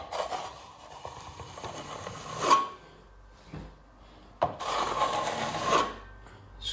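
A plastering trowel scrapes wet filler off a ceiling during a kitchen cabinet refit in a house renovation, giving two close, rasping strokes of a few seconds each, separated by a short pause.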